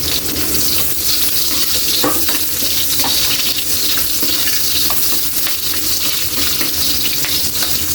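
Onions frying in a pan for pork humba give off a loud, dense, continuous sizzle with occasional stirring knocks, close and unbroken, with no voices.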